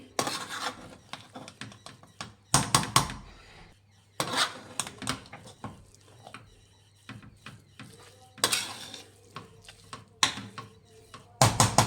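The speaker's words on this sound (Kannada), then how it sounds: "ನಿಧಾನಕ್ಕೆ ಮಿಕ್ಸ್ ಮಾಡಿ" Chettinad chicken biryani stirred slowly in a pressure cooker, with bursts of metal spoon scraping and clinking against the pot separated by quiet pauses, close and moderately loud.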